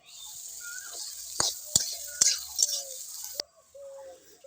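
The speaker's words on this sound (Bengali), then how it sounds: "ভালো করে গাজরটা নাড়াচাড়া করে ভেজে নেব।" Carrots stir-fried in mustard oil with a little ghee sizzle in a pan, with a steady hiss broken by several sharp scraping knocks of a spatula, then the sizzle drops back softly at the end.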